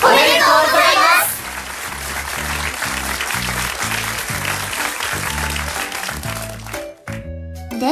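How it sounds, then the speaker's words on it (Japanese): A crowd claps and applauds for several seconds after a brief burst of other noise, ending with a short pause and a few sharp sounds. "最後に盛大な拍手をお願いします"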